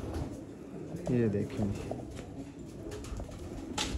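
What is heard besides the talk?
breeder pigeons cooing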